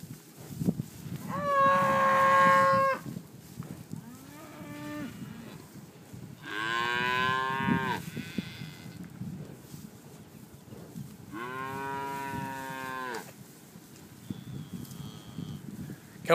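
Brangus cattle moo several times, long drawn-out lowing calls spaced apart, fairly close, with quieter outdoor background between them.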